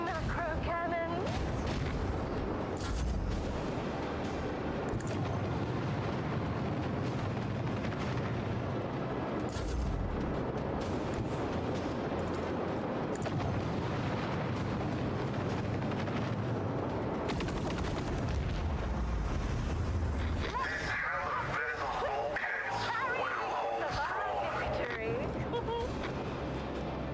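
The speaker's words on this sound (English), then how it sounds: "Commence the symphony of macro cannons." Macro cannons fire in the space battle of the video game Warhammer 40k: Rogue Trader, a dense, continuous roar of booms and blasts under loud game music and effects, with heavy low rumbles throughout.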